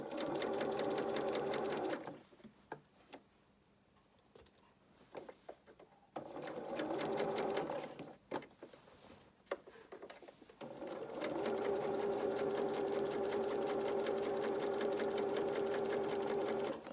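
Sewing machine stitching garment lining: two long runs of rapid, even mechanical whirring, close and clear, separated by a quieter gap with scattered clicks and handling noise, then a final sustained burst.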